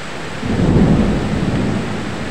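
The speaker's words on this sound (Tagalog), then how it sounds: "Dito sa Singapore, sobrang lakas ng kulog." Loud thunder rolls out in a long low rumble during a heavy downpour in Singapore, and steady hissing rain fills the whole stretch with no voices.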